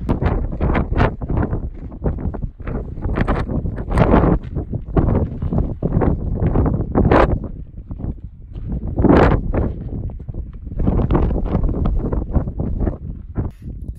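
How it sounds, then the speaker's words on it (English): Loud gusting wind on the summit of Pyramid Peak in Desolation Wilderness buffets the microphone in rough, uneven rumbling bursts that rise and fall throughout, with no voices. "Real windy now."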